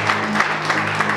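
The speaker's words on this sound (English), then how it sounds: "can you clap for Jesus?" Brief burst of rhythmic congregational clapping at a church service, with regular claps pulsing about every third of a second over a low hum.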